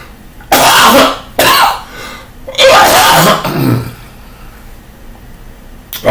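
Several harsh, loud coughs and throat clearings in quick bursts, separated by short quiet pauses, close to the microphone.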